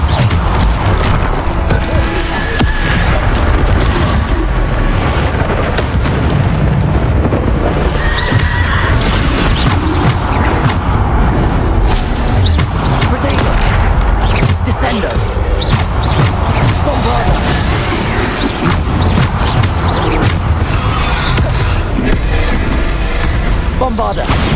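Repeated Bombarda spell explosions in the video game Hogwarts Legacy, a loud, continuous barrage of booming blasts and crashing impacts with game effects packed densely over the whole stretch.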